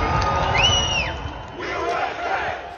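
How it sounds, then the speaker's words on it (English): Crowd surging and shouting at a Trump rally, a loud mass of voices roaring and yelling together, with a rising and falling whistle or shrill cry early on over the din. "There's a crowd surge heading east."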